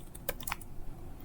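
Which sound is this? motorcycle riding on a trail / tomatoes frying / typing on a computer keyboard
typing on a computer keyboard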